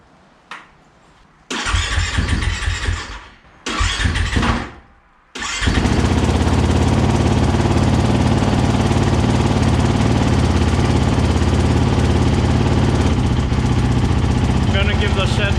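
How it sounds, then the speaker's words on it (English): A motorcycle left unused for six months, its battery recharged, cranks twice with whirring starter bursts and pauses, then fires up and settles into a loud, steady idle close by inside a shed. "Let me just start up the bike"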